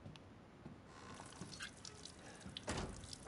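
Water running from a tap into a sink, a faint steady trickle with some drips and splashes and a louder gush near the end.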